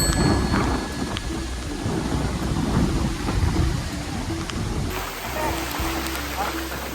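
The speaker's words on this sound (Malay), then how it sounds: "tiba-tiba hujan lebat yang ribut weh" Heavy storm on an island in Krabi: dense, steady rain roaring close throughout with strong wind and low thunder-like rumbles, a constant loud wash with no clear talk.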